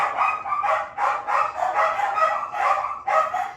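Household dogs keep up a steady chorus of rapid, overlapping barks, close and loud, pulsing roughly twice a second with no talk.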